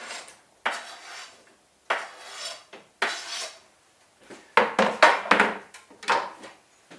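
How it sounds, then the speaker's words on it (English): Potatoes are tipped into a soup pot in a series of separate scraping, clattering bursts of metal and utensil noise. Some bursts are close and fairly loud, with short pauses between them and no talk. "I'll add the 400 grams of spuds."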